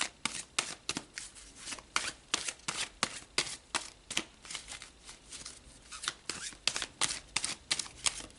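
Tarot cards being shuffled close up: a continuous run of crisp riffling and slapping bursts, irregular but steady in pace, with no voice over them.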